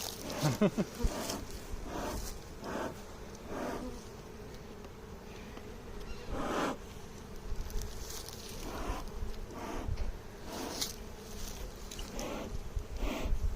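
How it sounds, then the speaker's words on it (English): Honeybees swarming around an opened hive during a spring inspection produce a steady, close, droning buzz that continues throughout, with scattered knocks and handling sounds. "Very industrious bees."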